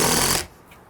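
A power drill bites into a pre-mortised exterior door plate in a short, loud grinding burst that cuts off abruptly after under half a second, leaving quiet room tone.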